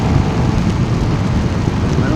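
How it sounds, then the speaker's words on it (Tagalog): Loud, continuous heavy downpour on the Marilaque highway during a Vespa scooter ride, roaring steadily with a low rumbling undertone, dense and unbroken throughout. "Malakas na naman ang ulan"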